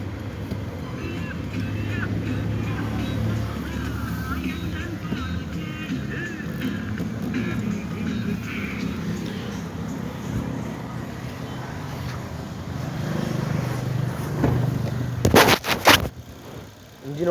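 A 2012 Maruti Suzuki Swift VXI petrol car with 67,000 km idles steadily with a low, even rumble heard from close by. Near the end come a few sharp clicks and knocks, and the idle carries on without anyone talking.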